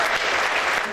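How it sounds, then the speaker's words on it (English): An audience at the Golden Heart Awards in Hollywood claps loudly and continuously in a short, dense burst. "Ladies and gentlemen, again, please a big round of applause to Andra and Barbara."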